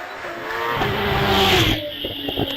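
A Dallara Formula 3-based hill climb car with a compact XD engine screams up the Prescott hill climb course, engine revving hard and rising in pitch before tyres squeal and the car passes close and loud.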